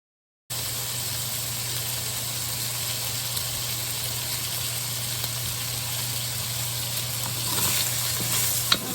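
Sausages frying and browning in a pan give a steady, dense sizzle close by, constant throughout with a low hum beneath and a few small pops near the end.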